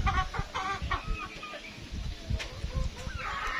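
Several chickens, young birds around four to five months old, cluck and call repeatedly at close range in a bright, busy run of short, choppy sounds.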